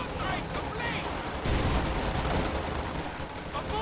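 Rifle gunfire crackles in a Company of Heroes 2 battle, dense overlapping shots and bursts with distant explosive rumbles forming a continuous, mid-level barrage of combat noise.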